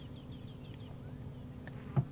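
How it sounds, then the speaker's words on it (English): Cicadas call at sunset on a wildlife safari, a faint, steady high-pitched drone under quiet outdoor ambience, with a few soft chirps scattered through it. "And you can hear the cicadas calling."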